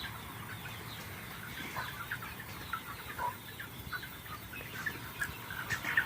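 Meat chickens in a crowded brooder shelter at night, a dense chorus of soft, overlapping clucks and chirps with occasional wing rustles, close and continuous.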